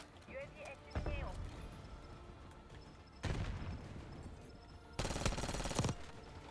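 Black Ops 6 video game gunfire, three separate loud bursts of rapid automatic shots spaced a couple of seconds apart, with game radio chatter faint in the gaps.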